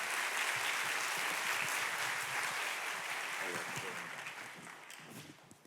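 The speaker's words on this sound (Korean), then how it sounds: "우리 한 번 더 박수하겠습니다." A church congregation applauds together, a dense, steady wash of clapping that holds loud, then slowly thins and fades toward the end, with no voices over it.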